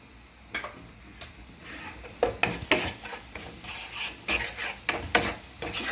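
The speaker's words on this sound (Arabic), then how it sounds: "نحرك الكل" Lamb shoulder with paprika, spices and salt is stirred in a pot, with a soft sizzle under a series of scraping, knocking strokes of the spoon that come closer together in the second half.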